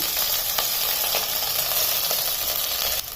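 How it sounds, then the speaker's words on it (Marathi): Fenugreek leaves frying in a hot pan with garlic and green chilies give a steady, dense sizzle that runs unbroken throughout, close and fairly loud, with no voices over it. "चार ते पाच हिरव्या मिरच्या थोडंसं परतवल्यानंतर यात टाकते मी आता ही मेथी"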